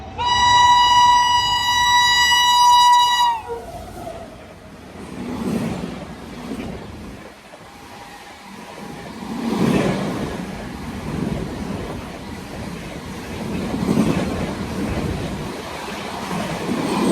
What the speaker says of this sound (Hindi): लो जी आ गई है गरीब रथ एक्सप्रेस